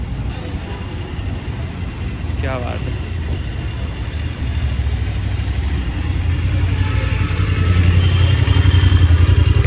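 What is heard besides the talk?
BMW motorcycle arriving with engine running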